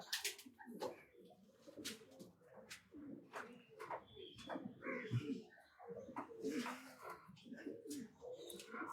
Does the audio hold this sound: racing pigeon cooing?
yes